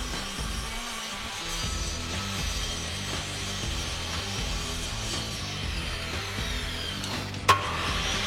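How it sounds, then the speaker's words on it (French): A wooden plank being hand-sawn to length for a headphone stand, close rhythmic rasping strokes repeating steadily, with a sharp click near the end. "prendre une planche en bois que je vais redécouper à 17 cm et 12 cm"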